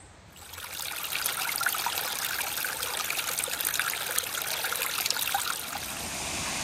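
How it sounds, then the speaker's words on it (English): A waterfall in an ancient UK temperate rainforest pours in a continuous, hissing rush of falling water, fading in and holding steady without voices. "All right, a waterfall, nice."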